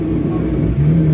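A Honda Civic engine runs loud and close, then revs up to a higher steady pitch partway through the short burst.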